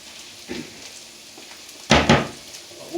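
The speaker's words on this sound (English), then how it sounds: "So let that sizzle for a few more seconds" Food sizzles in a frying pan, a soft steady hiss broken by a couple of sharper crackling bursts, close up with no talk.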